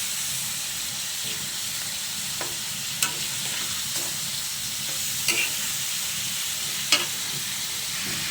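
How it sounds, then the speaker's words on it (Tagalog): Potatoes frying with chicken adobo in a pan, a dense continuous sizzle and hiss close up, broken by a few sharp clicks and clinks of a utensil against the pan. "yung patatas ang sasahog ko"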